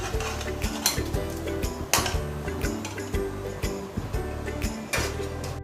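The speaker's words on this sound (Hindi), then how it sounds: "अब हमारे कोफ्ते अच्छे से फ्राई हो गए हैं और अब हम इन्हें निकाल लेते हैं।" Fried koftas for shaam savera kofta curry being lifted from a pan of sizzling oil, with a soft continuous frying hiss broken by repeated clinks and scrapes of a metal utensil against the pan.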